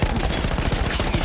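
Rapid automatic gunfire rattles in a fast, steady burst throughout in the World War I shooter Battlefield 1, loud and close.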